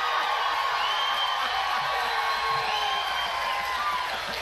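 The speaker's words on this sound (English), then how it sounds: "You're the peppiest crowd we've seen all day." A rally crowd at the MetraPark Expo Center in Billings, Montana cheers and whoops in a continuous, loud wash of voices that holds steady throughout, with no speech standing out.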